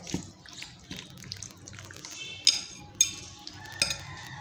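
Marinated chicken being mixed with spices for crispy fried chicken shots, heard as soft, wet squelching and stirring with a few sharper clinks of a utensil against the bowl, close and quiet, with no talk.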